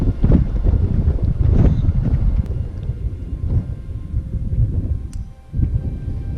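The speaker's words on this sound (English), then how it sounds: "Still quite blustery up here." Strong, gusty wind in the Lowther Hills of the Southern Uplands roars and buffets the microphone loudly, easing briefly before another blast returns.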